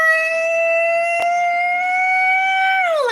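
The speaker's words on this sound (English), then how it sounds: "As you can hear/see, the sirens going by." An emergency vehicle siren wails loudly and steadily on a street, a sustained high tone that holds for a few seconds before sliding down in pitch as it passes, with no talk.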